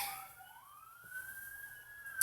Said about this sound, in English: you can probably hear those sirens off in the distance